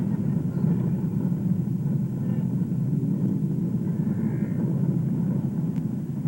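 Helicopters fly overhead with a continuous, low rotor and engine rumble that holds steady and fairly loud throughout.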